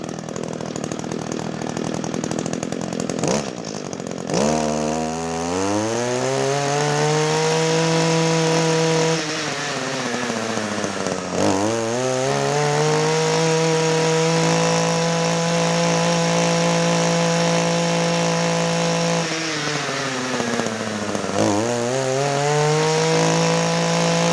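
A small two-stroke Echo 26cc brush cutter engine revs up repeatedly in rising whining sweeps, holds a high buzzing pitch, then drops back. It is loud and close, with no talking.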